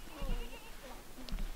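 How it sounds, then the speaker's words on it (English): Sheep bleating outdoors, a couple of short nasal calls over rough background noise and faint voices, brief and moderately distant. "Oh, there's more sheep."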